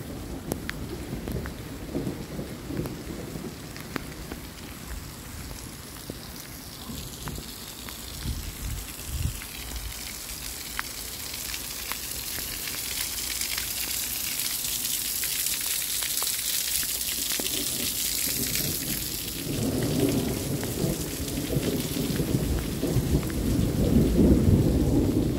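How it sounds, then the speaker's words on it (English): Thunderstorm directly overhead with steady rain pouring down and rumbling thunder rolling through, the downpour growing louder and heavier toward the end. "There's like a thunderstorm directly over us."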